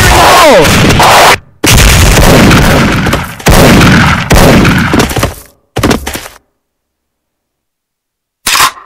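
Grenade explosions in a video game: loud, booming blasts in several heavy bursts, each cutting off abruptly into silence, with a brief final burst after a long gap.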